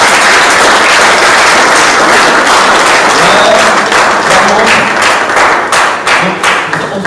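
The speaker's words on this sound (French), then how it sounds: "On fait un maximum d'applaudissements" A large audience claps loudly and steadily for a singer named Charmante as she walks forward at an integration show, the dense applause running the whole time with some thuds and a voice faintly underneath.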